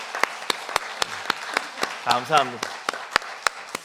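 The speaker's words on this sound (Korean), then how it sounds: "힘찬 박수로 뭐 축하, 감사, 찬양, 예, 박수하겠습니다" Steady, evenly spaced claps ring out during a church worship service, sharp and regular, while a voice speaks briefly over them in the middle.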